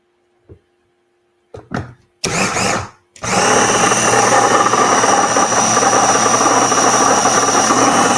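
A blender whirs loudly and steadily through avocado chocolate mousse, starting with a few brief pulses before settling into a continuous, close, high-pitched grinding drone.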